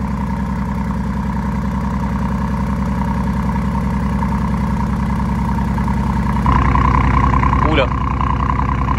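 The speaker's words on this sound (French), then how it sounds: "Oh le cold start, il était incroyable." Loud, close car engine idling after a cold start, a steady low rumble with an Aston Martin in view; the idle rises a step near the end as a voice briefly speaks over it.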